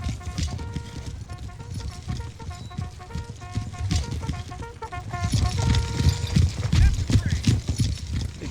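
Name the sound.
cavalry horses galloping in Empire Total War video game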